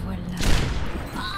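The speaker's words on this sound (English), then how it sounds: "That was a Hanzo that just shot at me" An arrow shot from Hanzo in the video game Overwatch lands amid a burst of in-game combat noise, one sharp loud impact rising over a dense layer of battle sound in a brief, near, busy moment.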